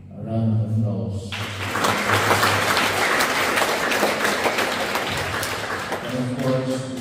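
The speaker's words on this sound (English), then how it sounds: "A round of applause." Audience applause at a church ministry gathering, a dense sustained clapping that swells after a brief spoken lead-in and continues for several seconds before a voice returns over its tail.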